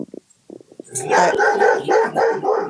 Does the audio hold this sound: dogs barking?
yes